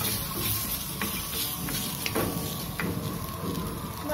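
Raw mango pieces sautéing in oil in a pan after roasted dal is removed, a close, continuous sizzle with soft intermittent stirring scrapes throughout.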